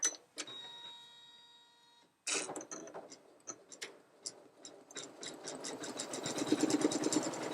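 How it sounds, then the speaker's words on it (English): A Janome Memory Craft 9850 sewing and embroidery machine stitches a design, starting with clicks and beeps and then settling into a steady, quick mechanical ticking that grows denser, heard close up with no talking. "Now let's embroider it."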